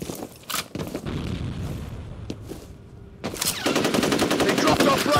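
Grenade blast and sustained automatic gunfire in the shooter game FEAR Combat: a few sharp bursts early on, a pause, then a loud, continuous rattle of rapid shots that carries to the end.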